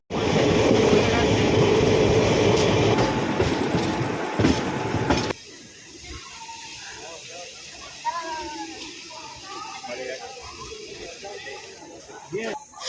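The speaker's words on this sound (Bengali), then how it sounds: "ট্রেন কিন্তু এই মুহূর্তে বেশ 110 স্পিড চলে গেছে" Sri Jagannath Express rushing along at about 110 km/h from Kolkata toward Puri, a loud roaring rumble heard from a crowded general compartment that drops to a softer running hum, with voices chattering.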